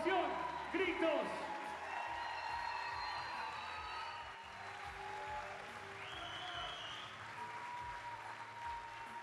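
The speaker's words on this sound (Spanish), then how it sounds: "Aplausos, ovación, gritos." Applause and cheers rise from a theatre audience at a singing workshop recital in Teatro Metro, dense clapping strongest at the start and then easing into a steadier ovation with scattered whoops and a voice over it.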